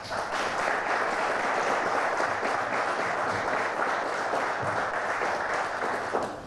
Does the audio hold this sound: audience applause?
yes